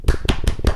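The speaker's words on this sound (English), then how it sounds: "Let's give him an applause." A few pairs of hands clap for an interview guest, sparse and close, with four distinct sharp claps in a loose, uneven rhythm.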